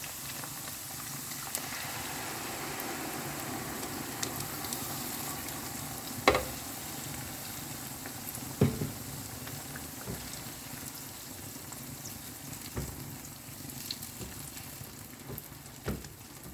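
Ground chilli paste frying in oil for chicken sambal makes a soft, continuous sizzle and bubbling, broken now and then by faint stirring knocks and scrapes.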